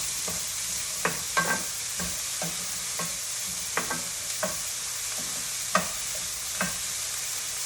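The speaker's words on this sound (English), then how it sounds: "And now these veggies are going to be browning for another 2 minutes or so." Vegetables for lomo saltado sizzle steadily in a hot pan, with a constant frying hiss broken by scattered clicks and taps of stirring, no voices.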